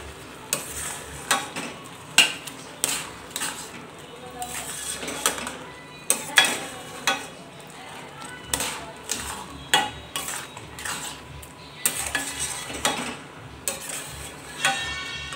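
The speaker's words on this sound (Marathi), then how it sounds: "आता साखर छान अशी मिक्स करून घ्यायची आहे।" A spoon stirs a carrot and milk mixture with sugar in a pan, making repeated scraping, clinking strokes against the metal at a steady rhythm, close and fairly quiet.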